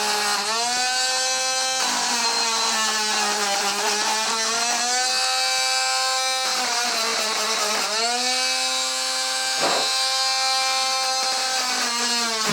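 A Dremel rotary tool with a polishing bit works a rusty arcade joystick, its high whine rising and dipping repeatedly as load changes, steady and close with no talk.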